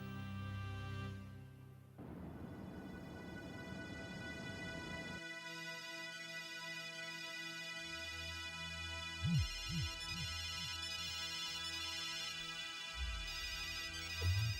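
A mobile phone ringtone plays a looping electronic melody indoors, steady and fairly close, with a short burst of other sound at the start and no speech over it.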